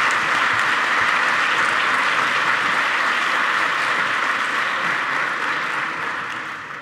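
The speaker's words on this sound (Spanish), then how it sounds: "Un fuerte aplauso." A large audience applauds the rector at a university ceremony marking the Erasmus programme's 30th anniversary. The clapping is dense and steady throughout and tapers slightly at the very end.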